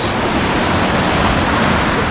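A river below El Milagroso waterfall near Buga, Valle del Cauca, rushes in a steady, loud broadband roar, with continuous turbulent water filling the whole stretch and no voices over it.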